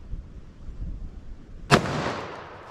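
A .44 Magnum revolver firing Remington HTP ammunition outdoors: one loud, sharp shot with a decaying echo after a quiet lead-in.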